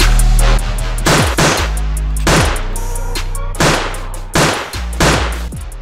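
Toy gun shots ring out during a kids' hide and seek game: a rapid series of loud, sharp bangs, about a dozen over several seconds, arriving in short bursts and close to the listener.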